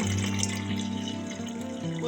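A steady stream of cold water pours continuously into a pot, a smooth running gush that holds at the same level from start to finish.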